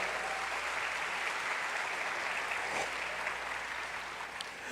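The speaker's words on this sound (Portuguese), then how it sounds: "Se é para Jesus, você pode fazer melhor, aplaudir mais forte." A church congregation applauds more strongly during a Portuguese-language sermon, a dense, steady wash of clapping that holds at an even level throughout and thins slightly near the end.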